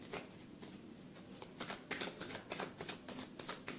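Tarot cards being shuffled close up, soft at first, then a quick run of crisp, rhythmic riffling flicks that grows louder toward the end.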